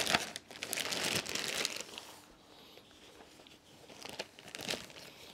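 Protective wrap crinkles and rustles loudly and close up as it is peeled off a Harbeth Super HL5plus XD speaker, with dense crackling bursts, a quieter pause, and more crinkling, without speech.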